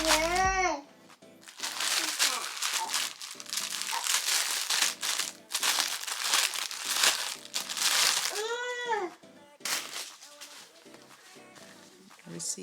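Plastic packaging crinkles and crunches repeatedly as a bag holding wig accessories is unpacked, close and fairly loud in irregular bursts, with a brief babbling voice near the start and again midway.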